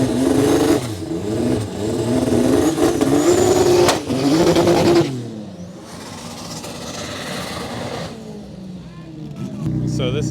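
A loud boosted E46 M3 engine in a race car revs hard, its pitch climbing through several gear pulls before easing off and then picking up again.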